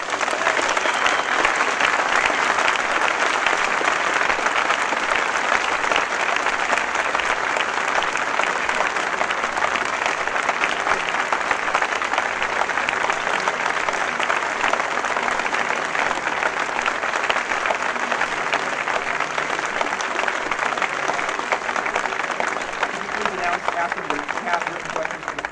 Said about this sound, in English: Thank you very kindly for your heartwarming applause.